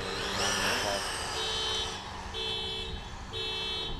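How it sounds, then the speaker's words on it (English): A car alarm sounds nearby, with repeated electronic tones pulsing in short bursts over road and engine noise and some talk, set off by front-wheel-drive Tamiya RC cars. "You set off their alarm, bud."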